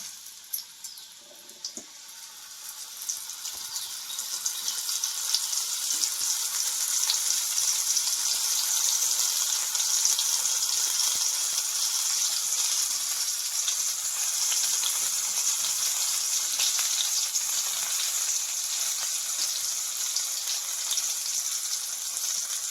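Coated jitada fish sautéing in a pan, marinated with semolina, rice flour and masala, makes a continuous crackling sizzle that builds over the first few seconds and holds steady and fairly loud for over twenty seconds, with no speech.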